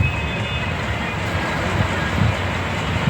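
A train rolls past a closed railway level crossing in Lakhtar, Surendranagar, a steady broadband rumble with low clattering that holds at a constant, fairly loud level throughout.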